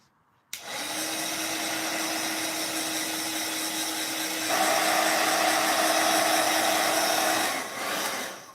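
Heat tool blowing hot air onto a warped embossing folder during crafting, a steady loud whooshing drone with a motor whine that shifts pitch and gets louder partway through before cutting off near the end; no talking.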